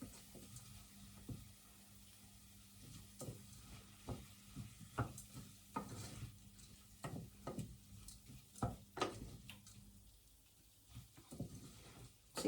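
Rice being sautéed in a pot for lugaw (porridge), with a steady low sizzle under repeated scraping and stirring strokes of a spoon against the pot, close up and moderately loud, no talking.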